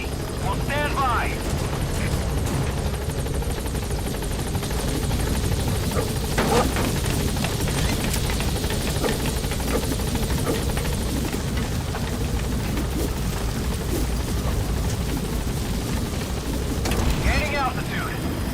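The Pequod helicopter from the video game Metal Gear Solid V arriving at a landing zone, its loud continuous rotor roar filling the whole stretch with a steady thudding wash, while a voice speaks over it.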